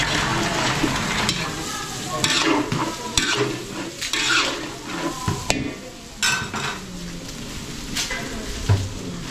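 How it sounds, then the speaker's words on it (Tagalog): Vegetables are stirred and tossed in a frying pan with sautéed garlic and onion, giving steady sizzling with repeated scraping and clattering strokes up close; no one speaks. "So i-mix na natin yung gulay."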